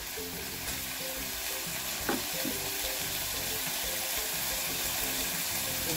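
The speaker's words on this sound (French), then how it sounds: "Ensuite j'ai fait suer mes oignons dans cette huile là. Je vais laisser bien suer." Onions sweat gently in oil in a pan, a soft, even frying sizzle that holds steady throughout, with a faint clink near the middle and no voices.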